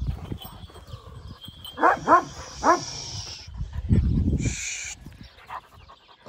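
An 11-month-old young dog gives three quick barks in a row, fairly close, over a low background rumble, followed by a short higher whine and scattered small noises.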